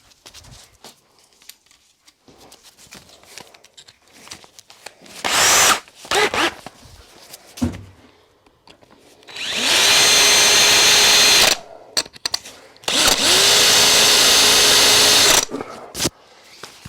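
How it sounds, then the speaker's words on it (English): A power drill whines in several bursts, drilling out a set screw on a Stuart steam engine, two long sustained runs rising in pitch as it spins up, with clicks and handling noise between, close up. "I'm going to put a drill in there and drill out the remains"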